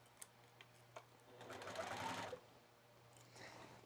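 A sewing machine runs a short burst of back stitching along a 1/2 inch seam on a quilt top, a steady whir lasting about a second amid a quiet room, bracketed by a few soft clicks.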